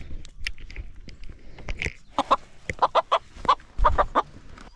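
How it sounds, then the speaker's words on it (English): A wild rooster, recently tamed, clucks and squawks in short sharp bursts while held down by hand, close and loud, with scuffling between calls. "So I got the rooster right here."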